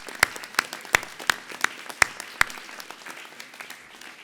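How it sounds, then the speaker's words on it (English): Applause for diploma students at a hotel management school graduation ceremony: a steady run of crisp, evenly spaced claps close by over softer, distant clapping from the audience, fading toward the end. "So let's give a big congratulations and applause to the diploma students."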